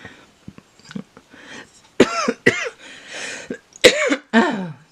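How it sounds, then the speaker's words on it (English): A coughing fit: a run of harsh, rasping coughs, first small and scattered, then several loud, forceful hacks in quick succession, close up with no talking. "I get these coughing spells"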